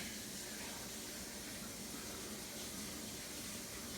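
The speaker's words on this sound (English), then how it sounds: "So I'm gonna try and rinse this here." Water runs steadily while a Vitamix S50 blender container is rinsed in a sink, a constant broadband hiss with no pauses throughout.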